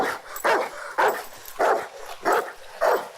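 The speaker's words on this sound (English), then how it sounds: "What are you barking at in the corn?" A dog barks repeatedly near a cornfield in a scene from the 2002 film Signs, with six loud barks in an even rhythm and short quiet gaps between them and no talk.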